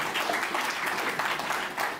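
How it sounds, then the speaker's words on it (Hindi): A comedy show audience breaks into applause, a thick wash of many hands clapping close and steady through the whole moment without voices on top. "एक बार पूरा सदन मुझे ताली बजा के आशीर्वाद दे।"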